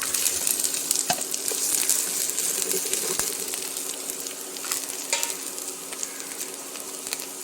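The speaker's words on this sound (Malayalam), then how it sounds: "അതിലേക്ക് കുറച്ച് സവാള അരിഞ്ഞത് രണ്ടല്ലി വെളുത്തുള്ളി അരിഞ്ഞത് ഒരു പച്ചമുളക് അരിഞ്ഞത് അതിടാം" Chopped onion, garlic and green chili sizzle steadily in hot oil for a Kerala spinach stir-fry, a close, continuous crackling hiss with occasional stirring clicks and no speech.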